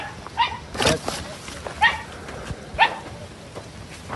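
Dogs bark at a villa property on the Alexandria desert road in Egypt, giving several short, spaced barks of moderate loudness over a steady background hiss.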